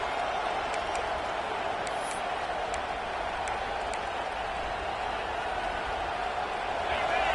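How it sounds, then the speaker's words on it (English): Stadium crowd roaring steadily at a college football game between Oklahoma and Baylor, a dense continuous wash of cheering with a few faint whistles, loud and sustained throughout. "The roar of the crowd trying to fuel this defense to keep them pinned in their own end."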